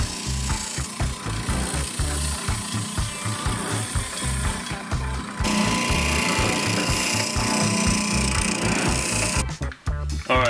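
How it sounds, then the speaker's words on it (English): Power sander working along the edges of a wooden kids' cheese board, a steady close mechanical whir with rapid rhythmic buzzing throughout, briefly cutting out near the end. "All right, Ezri, now that we've got it all sanded out, all around all the edges"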